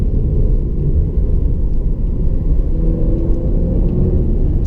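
Cabin view of a 2016 Jaguar XE S, its 250kW supercharged V6 floored in third gear: a dense, unbroken low roar and whir of engine and road noise holds loud and even throughout, with nobody talking.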